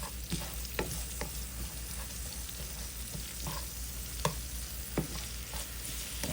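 Goulash ingredients cook down in a pan under a faint, continuous sizzle, with intermittent scrapes and clicks from stirring spread across the stretch and no speech.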